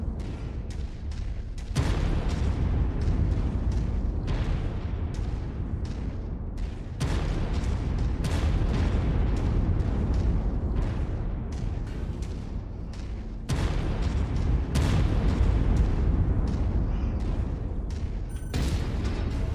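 Heavy mech weapons firing in MechWarrior 5: Mercenaries, a steady stream of loud booming shots and impacts with several stronger bursts, rumbling continuously throughout.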